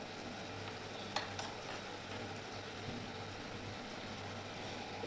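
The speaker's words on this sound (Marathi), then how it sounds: "मसाला व्यवस्थित तळून घ्यायचा आहे. पूर्णपणे तेल सोडत नाही तोपर्यंत व्यवस्थित तळायचा आहे." Spices fry in hot oil in a pan for a black-eyed pea and potato curry, giving a soft, steady sizzle with a few faint clinks of a stirring utensil, quiet and continuous throughout.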